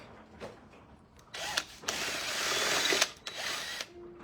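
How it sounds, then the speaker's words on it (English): A power drill whirs through fabric on a tin can in several bursts, a short run, then a longer sustained drilling stretch and a final burst, close and loud. "I'm going to see if I could drill the hole through it, this fabric."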